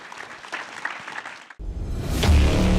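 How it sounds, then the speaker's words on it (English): Audience applause for panelists at a Bitcoin 2023 conference session, a brief stretch of quieter clapping, then a cut to a louder, fuller wave of clapping that swells near the end. "Please give our panelists a round of applause."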